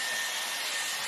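Dyson Airwrap styler blowing a steady, loud, close rush of air while drying hair at the roots, with no voices.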